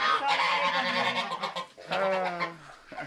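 Goose honking in loud, harsh, nasal calls, a long run of honks followed by a brief dip and another burst of calls, close by on a spring farm in Manitoba, Canada.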